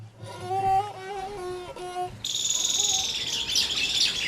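Clear whistled bird calls in sustained, stepped notes in a forest of scrub along a red-earth road, then a brighter chatter of high chirps takes over.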